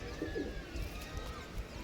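Racing pigeons coo softly at a pigeon club, a couple of low burbling calls close by over a faint background murmur.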